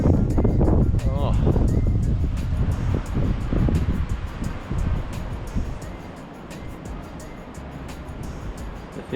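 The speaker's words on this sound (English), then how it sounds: "the wind is nasty" Wind gusts across a coastal bait-fishing spot as a loud, rough buffeting on the microphone that is strongest at first and eases off, with a person talking over it.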